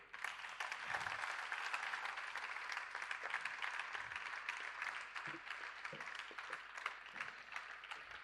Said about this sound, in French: S'il vous plaît, applaudissez pour elle.